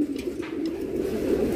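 Racing pigeons cooing in a loft of young birds, a steady low, throaty murmur that runs without a break and sounds close and fairly loud, with no voices.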